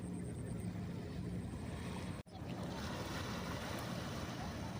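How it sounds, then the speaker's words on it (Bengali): Waves from a passing ship wash along a river, giving a steady rushing swash with wind noise close to the bank and one brief dropout midway. "এখানে অনেক ঢেউ হচ্ছে ওই দূরের দিকে দেখো কতটা ঢেউ হচ্ছে কারণ হচ্ছে এই জাহাজটা গেল"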